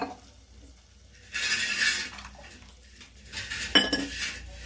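A utensil stirs beaten eggs with milk in a pan, making close scraping and clinking bursts that come and go over a quiet kitchen background.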